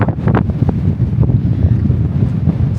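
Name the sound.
strong wind in Iceland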